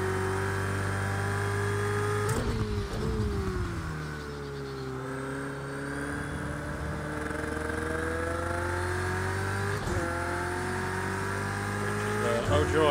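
Race cars lapping Daytona in the Project CARS 2 racing game, with steady close engine drone and rising and falling revs as gears shift, a few sharp transients, and a commentator's voice talking underneath.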